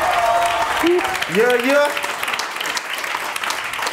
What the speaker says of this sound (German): Mach mal einmal auch nochmal einen Applaus für Sammy